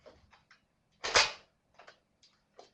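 A Nerf blaster with stacked top and bottom barrels fires both together, giving one loud sharp snap with a brief thump, surrounded by faint clicks and handling noise.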